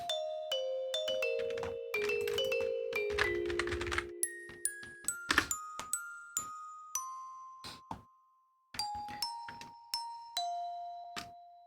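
Vibraphone notes from the Air Instrument Expansion Pack ring out in a melodic phrase, single struck tones and a quick flurry of notes with long shimmering decays, some sustained tones overlapping before sparser hits at the end.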